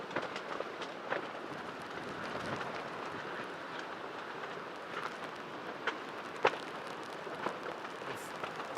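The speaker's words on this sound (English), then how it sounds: "Just take a listen as the wind continues to rip across it." Hurricane Milton's wind roars across a shredded roof in Florida, a continuous broad rushing hiss with rain, scattered rattles and one sharp crack near the end, no voices.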